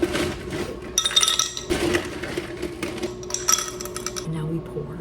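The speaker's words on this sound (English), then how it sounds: "But I gotta put the ice in, it's gonna be really loud." Ice cubes dropped into a glass for an orange cream Coke, a series of sharp close clinks and rattles in several bursts with quieter gaps, while someone talks.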